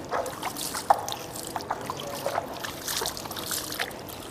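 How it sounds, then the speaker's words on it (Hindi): Water trickles and splashes as it is poured over the feet during wudu ablution, a soft, uneven dribble with small drips close by and no talking. "आप पानी लें और इस तरह पानी डालते जाएं और खिलाल करते जाएं"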